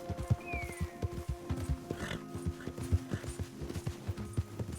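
Horse hooves clip-clopping in Red Dead Redemption 2, a steady rhythmic walking gait of distinct hoof strikes at close range, with faint game ambience and a brief whinny-like tone early on.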